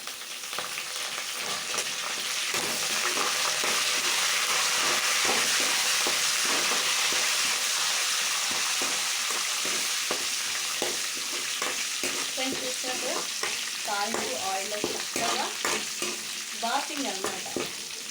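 Loud, dense sizzling of hot oil as curry leaves, onion and spices fry in a tempering pan, with stirring scrapes and crackles running throughout.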